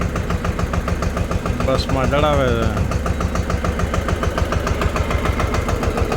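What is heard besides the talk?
tractor engine running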